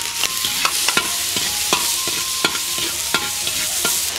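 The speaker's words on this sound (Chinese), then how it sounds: "锅中倒油，煎蒜、盐、葱末爆香" Garlic, salt and scallions fry in hot oil in a pan for a fruity pork chop sauce, with a constant bright sizzle and a regular series of spatula taps and scrapes, close and clear.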